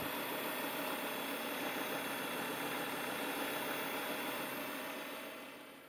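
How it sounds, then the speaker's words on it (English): A Volvo S40 engine running at a steady idle after starting, a constant low rumble with mechanical hum that holds evenly before fading slightly at the end. "I reconnected the battery negative terminal and I started the engine."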